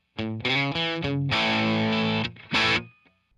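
A dry, distorted electric guitar plays a short phrase of chords and single notes, with no delay or reverb trailing the notes.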